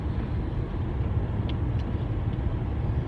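Steady, dense engine and road noise from inside a 2011 Audi A5 cruising in fifth gear, a constant broadband rumble with no variation or talk.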